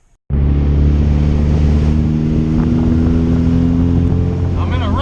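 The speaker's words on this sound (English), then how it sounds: "I'm in a race car." A race car engine for oval track racing bursts in loud and close after a brief near-silence, then holds a steady, heavy drone with wind buffeting and a rising whine near the end.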